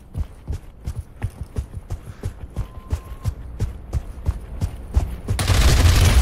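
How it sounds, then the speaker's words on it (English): Heavy gunfire in the Pavlov VR shooter game: a steady, evenly spaced run of sharp shots, roughly three or four per second, ends in a loud, dense burst of noise. "Heavy fire, heavy fire."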